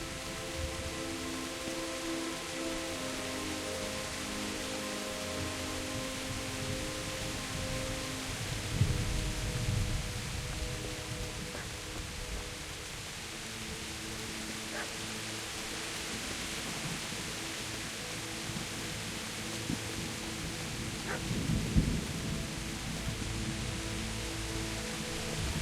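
Steady rain hisses through a thunderstorm in the medieval game Kingdom Come: Deliverance, broken by a couple of low thunder rumbles, with no talk over it.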